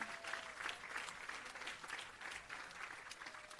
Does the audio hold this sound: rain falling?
no